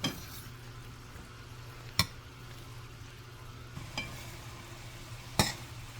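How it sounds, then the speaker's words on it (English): Mackerel in a pan is stirred as complete seasoning, black pepper and salt go in, with a soft background sizzle broken by three sharp utensil clinks against the pan, no voices. "I'm just gonna stir that in"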